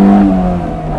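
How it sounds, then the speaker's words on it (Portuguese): Honda Civic Del Sol targa with a VTEC engine running loud and close, a steady droning engine note holding over a brief moment with no talk. "Primeiro vamos ouvir esse VTEC funcionando."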